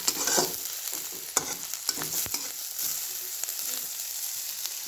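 Chopped onions sauté in a pan for kanda poha, giving a soft steady sizzle with intermittent scrapes and taps of a spoon stirring, close and moderately loud without any talk.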